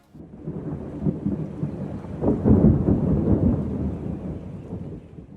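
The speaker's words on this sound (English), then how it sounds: "cannonballs rolling on through to start simulating the sound of thunder" Cannonballs rolling through a theater thunder machine make a deep, rumbling roll like distant thunder that swells and fades over several seconds, steady and low without any voices.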